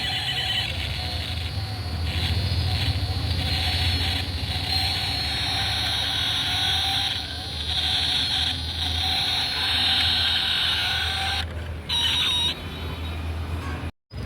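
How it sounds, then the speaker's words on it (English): The light-and-sound feature of a Mahindra Thar Earth Edition off-road diecast toy car plays a steady, buzzy electronic engine sound with a constant hum. It runs continuously before a brief click and dropout near the end. "Now let's check on the last and final feature of our Mahindra Thar diecast model. It is the light and sound feature."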